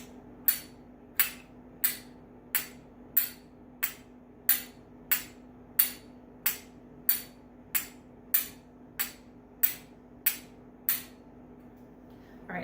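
Finger cymbals clack together, rim and edge struck together, in a steady, evenly spaced series of bright, ringing strikes, about eighteen in a row, close and clear.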